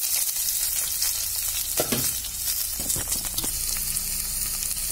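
Small onions sauté in hot oil in a pan for a village-style vanjaram fish curry, with a steady loud sizzle and a few stirring scrapes near the two-second mark, heard close up without talk.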